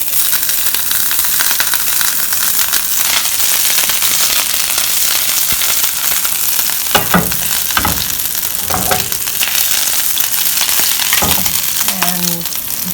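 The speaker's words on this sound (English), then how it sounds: "when the oil is hot, we shall put a little pachforon. And a little bit of ginger." Panch phoron and ginger hit hot oil in a loud, continuous close-up sizzle dense with crackles and spits, broken by a few scraping stirs in the second half, with no voices.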